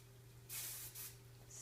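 Two quick hissing bursts of spray from a bottle misting hair while curls are set on paper rollers, the first longer and the second shorter, close and fairly quiet over a steady low electrical hum.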